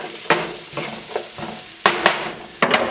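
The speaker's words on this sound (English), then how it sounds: "I'm going to go ahead and stir this up, get it all full of that oil" Diced onions stirred through hot oil in a pan, a spoon scraping in a few uneven strokes over a soft sizzle, close and clear with no talk.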